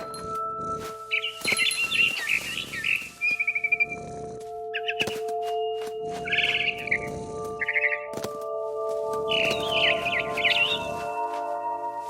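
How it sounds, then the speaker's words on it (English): Barn swallow chirps in the video game What Remains of Edith Finch come in several separate twittering bursts spaced a few seconds apart, over a constant synthetic drone with occasional clicks. "I heard chirping outside my window. It was a barn swallow going back to her nest."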